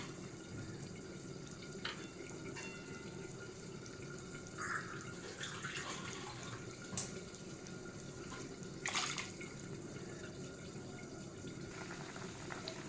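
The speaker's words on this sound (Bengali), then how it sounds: "এবারে দিয়ে দেবো জল।" Water is poured steadily into a cooking pot for prawn pulao, a faint, continuous splashing flow that lasts throughout with a few small clinks over it.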